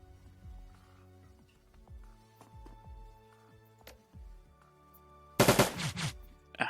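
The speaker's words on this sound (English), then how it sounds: "Let's start by shooting the one that's out in the open." Gunfire in the cyberpunk game Shadowrun: Dragonfall: a string of separate low thumping shots with clicking mechanical sounds between them, then a loud, sharp burst of rapid shots near the end.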